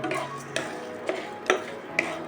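Dried red chillies, whole cumin, coriander seeds and bay leaves dry-roast in a pan on an induction cooker. Soft scraping stirs and light ticks come at a steady rhythm, roughly every half second, over a faint hiss.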